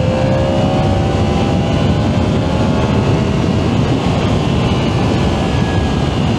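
A Yamaha MT-10 SP motorcycle fitted with a Leo Vince Corsa exhaust with the end cap removed runs at about 7000 rpm while riding, a loud continuous deep roar with a steady engine whine and no talk.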